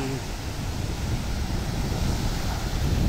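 Ocean surf rolls onto a beach at night in a steady, continuous wash of noise, with wind buffeting the microphone and no talk over it.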